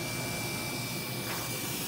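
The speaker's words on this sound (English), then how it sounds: "you can hear the vacuum system on there so it can pick up all of the chips" Vacuum chip-extraction system running on a Gravograph IS400 engraving machine cutting two-ply plastic, a steady, loud, continuous whooshing roar with no talk.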